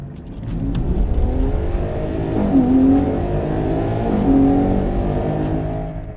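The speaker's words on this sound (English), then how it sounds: "that acceleration off the line, that V12 kicks in" A Ferrari Purosangue V12 engine revs hard as it accelerates off the line, a loud sustained roar with two rising gear-change sweeps, heard close from the cabin.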